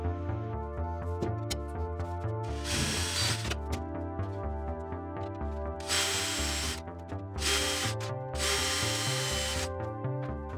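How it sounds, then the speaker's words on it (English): A power drill whirs in short bursts, its pitch rising and falling as it bites through a stringer and two aircraft tailcone skins, with brief pauses between runs. "I'm going to match drill through the stringer through both skins down the center seam there."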